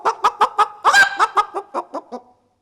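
A human voice imitates a rooster, giving a rapid string of about a dozen clucking, crowing bursts with one longer stretched cry in the middle, loud and close with nothing else around it.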